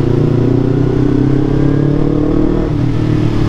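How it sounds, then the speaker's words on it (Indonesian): A Yamaha MT-25 250cc two-cylinder motorcycle engine runs at a steady loud idle-to-mid rumble, close up and alone, with a slight dip near the end. "Aduh, suara 2 silinder ya, akhirnya kita bisa dengerin lagi suaranya di channel ini."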